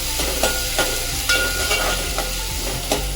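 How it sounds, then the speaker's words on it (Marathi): Chopped onions frying in hot oil for a Marathi chicken rassa curry, with a steady close sizzle and repeated scraping stirs about every half second. "ह्याला थोडा सोनेरी रंग येईपर्यंत आपण ह्याला फ्राय करून घेऊया कांद्याला"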